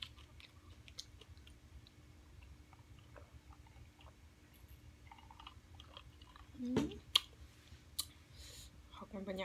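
Someone eating green papaya salad with banana blossom and vegetables, with soft intermittent chewing and clicking mouth sounds close by under a low background hum, and a couple of sharper crunches near the end.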